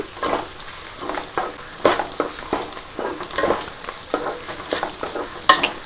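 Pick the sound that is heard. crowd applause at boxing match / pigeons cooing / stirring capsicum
stirring capsicum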